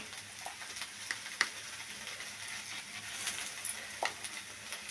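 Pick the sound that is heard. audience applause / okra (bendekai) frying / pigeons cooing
okra (bendekai) frying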